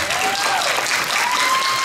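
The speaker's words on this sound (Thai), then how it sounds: "ขอเสียงปรบมือด้วยนะครับ" Crowd applause at the premiere event of a Thai television series, a brief, dense and loud burst of clapping from many people, with a faint sustained tone running underneath.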